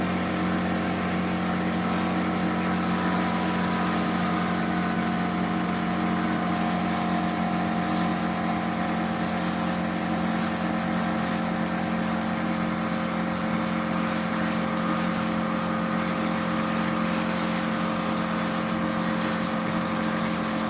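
An air compressor runs steadily as it builds to pressure, with a constant loud mechanical drone and no break or talking across the whole stretch.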